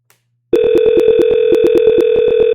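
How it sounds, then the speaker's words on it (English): A softphone dialing an extension: a quick series of evenly spaced, loud electronic keypad tones sounds over a continuous steady tone after a brief silence, close and clean. "let me go and dial my extension"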